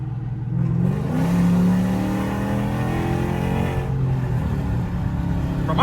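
A Chrysler 300 with a 5.7 Hemi V8 and a 180 thermostat tune accelerating hard from inside the car, the engine note climbing and droning steadily loud for several seconds with a rising whine.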